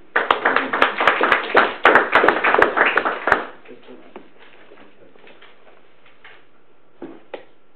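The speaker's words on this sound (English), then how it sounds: "That deserves a round of applause, don't you?" Audience at a Federation Council meeting applauds: a burst of hand clapping for about three seconds, then it stops abruptly, leaving quiet room tone with a couple of faint taps.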